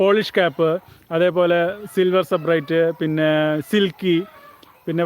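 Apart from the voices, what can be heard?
No everyday noise stands out behind the speech.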